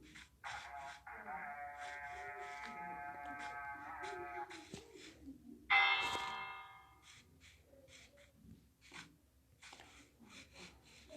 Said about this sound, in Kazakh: Тездет қоңырауды соғу керек